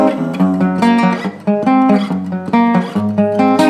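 A guitar plays the rising build-up riff before the chorus of a song, strummed chords alternating between two positions, loud and close, building in intensity.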